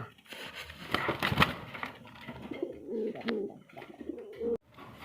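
Pigeons coo close by in low, throaty, rolling calls, repeating over a few seconds amid light rustling.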